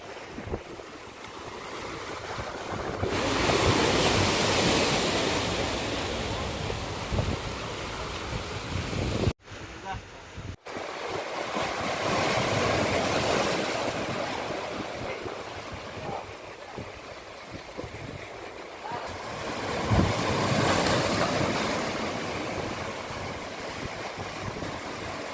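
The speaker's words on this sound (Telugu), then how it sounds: "అలానే సముద్రంలో అలలు చూడండి ఎలా వస్తున్నాయో" Ocean waves roll onto Marina Beach in Chennai in a steady, loud wash that swells and recedes, with strong wind buffeting the microphone throughout.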